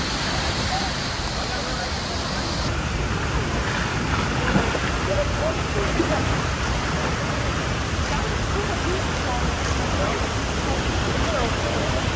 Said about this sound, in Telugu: ఇది చూడండి ఎట్లుంది వాటర్ ఫాల్. భయంకరంగా ఉంది.